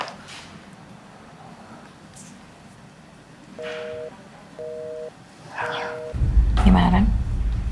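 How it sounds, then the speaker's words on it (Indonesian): A phone call is placed: three short, evenly spaced ringback beeps sound mid-clip, then a loud low burst near the end, with a voice faintly present. "Gue coba telepon ya."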